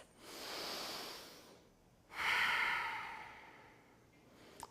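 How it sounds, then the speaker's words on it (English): Two slow, deep breaths during a yoga hip-opening pose, a long airy inhale followed by a fuller, louder exhale, close and unhurried. "And then we're gonna breathe here"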